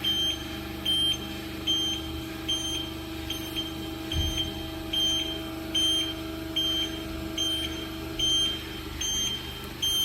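A VME-1000L vacuum emulsifying mixer's hydraulic lift rises with a steady machine hum, while a high warning beep repeats at a regular pulse throughout.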